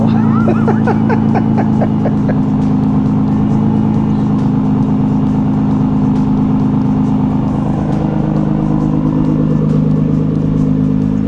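A Nissan GT-R engine rumbles loudly and steadily up close on a cold start, a deep continuous drone with a slight rattle that never drops away.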